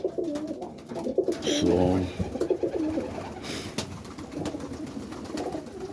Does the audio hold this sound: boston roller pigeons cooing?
yes